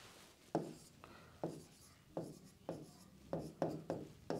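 Pen strokes on paper during a finance lesson, a series of about nine short scratchy marks at an uneven pace, close and clear against a quiet room.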